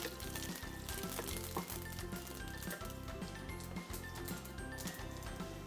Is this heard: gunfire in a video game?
no